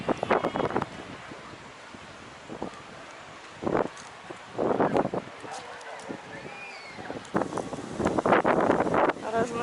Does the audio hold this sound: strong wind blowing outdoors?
yes